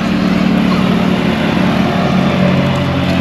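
An old bus engine drones loudly and steadily with a low rumbling hum while the vehicle drives along in Nepal, constant with no breaks.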